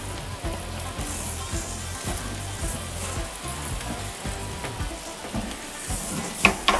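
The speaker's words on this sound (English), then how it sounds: "Just look at that fat cap sear" The fat cap of a beef roast sears on a grill grate running at about 700 to 800 degrees, giving a close, constant loud sizzle and crackle with a low rumble underneath.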